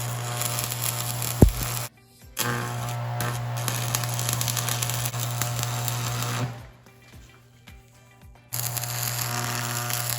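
Welding buzz on a 1940s concrete mixer being restored, a continuous loud crackling hum in long runs broken by short pauses, close and without talk.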